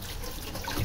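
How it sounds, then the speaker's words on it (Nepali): Hot tap water runs over raw broccoli being washed in a kitchen, a brief, steady trickle and splash heard close up. "यसलाई चाहिँ मैले तातो पानीले पखाल्दैछु"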